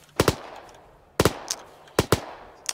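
Gunfire in a tactical shooter video game, three separate sharp volleys of two or three quick cracks each, moderately distant and spaced about a second apart, with no talk.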